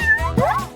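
A cat gives a single rising-and-falling meow, close and clear, with a softer vocal murmur before it during a playful indoor game.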